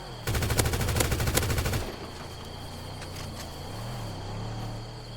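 Rapid automatic gunfire from a GTA roleplay game bursts loudly for about a second and a half, then cuts off, leaving a steady droning hum with faint insect-like chirping.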